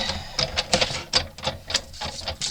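A die cutting machine feeds a handmade paper card through its rollers, producing a rapid series of mechanical clicks and thumps in an uneven rhythm, close and fairly loud with no talking.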